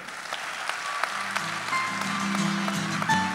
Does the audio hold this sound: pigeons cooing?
no